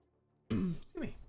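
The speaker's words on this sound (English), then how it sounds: "coughing so much" One person coughs close to the microphone, a rough throaty burst followed by a second shorter cough after a brief quiet start.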